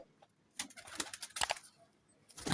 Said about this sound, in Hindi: बहुत अच्छे कबूतर हैं, टोटल 10 पीस हैं।